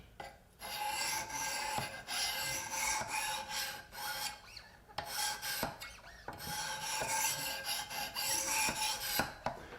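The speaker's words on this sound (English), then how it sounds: "I'm going to run this 1000 grit stone over the edge very lightly" A 1000 grit stone drawn lightly along the edge of a Hinderer Firetac knife on a Wicked Edge sharpener, close, quiet repeated rasping strokes with brief pauses between passes.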